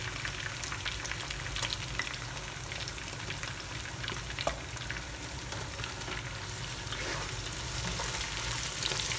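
Tomato and ginger garlic paste frying in oil for prawn pulao, a steady close sizzle with faint crackles and stirring, continuous and alone for the whole stretch.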